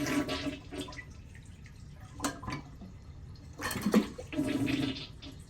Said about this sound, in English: we're going to try to get as much water out of here as we can.